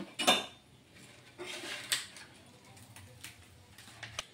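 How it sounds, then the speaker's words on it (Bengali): Cooked manso pitha being lifted onto a plate, with a sharp metallic clink up front followed by softer scraping and a few light taps of utensil against plate and pan, fairly quiet and close. "তো দেখো বন্ধুরা এখন আমি থালায় নামিয়ে নেব।"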